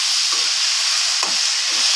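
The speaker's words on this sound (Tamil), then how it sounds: "இப்போ நம்ம தக்காளி பழம் சேர்த்துக்கலாம் ஃப்ரெண்ட்ஸ்." Tomatoes dropped into a pan of sautéing onions for tomato chutney, a loud steady sizzle broken by a few short stirring scrapes, close up with no voices.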